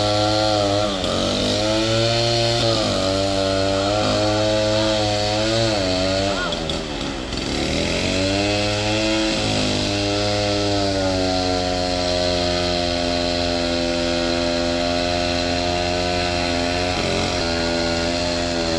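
Chainsaw cutting into a standing teak tree for the first felling cut, a loud close engine whine that rises and dips as the blade bites, steady throughout.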